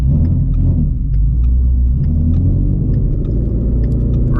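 A straight-piped Shelby GT350 rumbling loud and close on a city street at night, deep low engine drone with steady blipping revs and crackles.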